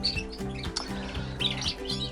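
Canaries chirp and tweet in a bird room, a dense overlapping chorus of short high calls running throughout, fairly close, over a steady low hum.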